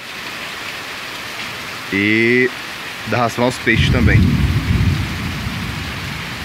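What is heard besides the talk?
heavy rain and thunder at a farm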